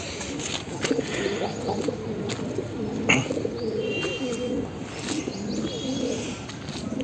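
Pet pigeons, including a green pigeon, coo softly and repeatedly at close range, their low rolling calls overlapping with faint chirps against a steady background hiss.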